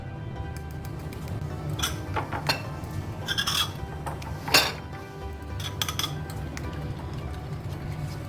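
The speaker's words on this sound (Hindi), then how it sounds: "इसको बिल्कुल अच्छी तरह से फेंट लें, ताकि इसमें ज़रा सी भी कोई लम्प्स ना रहें" Turmeric, chilli and coriander powder being whisked into yogurt in a bowl for kaleji masala, a steady run of light scraping and clinking against the dish with a few sharper clinks, close and alone with no talk.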